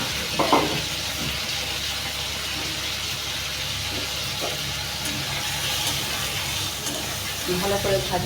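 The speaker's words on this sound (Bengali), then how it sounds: "এবার মাছটাকে ভেজে নেব।" Prawns coated in salt and turmeric sizzle steadily in a pan of hot oil with a constant close hiss and occasional small pops, and faint speech sits in the background.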